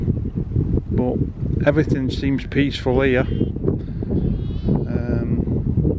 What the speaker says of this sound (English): I've got my mic cover on, but it is really windy